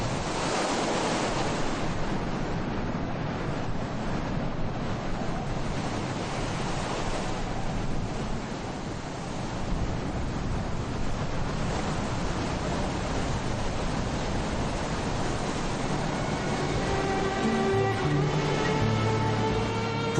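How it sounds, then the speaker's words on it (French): Strong wind roars over ocean surf on the beach at Essaouira, Morocco, a continuous loud rush of breaking waves and gusts buffeting the microphone, with a faint tonal hum entering near the end. "À marée basse, il fait bon, mais à marée haute, le vent se met à souffler fort."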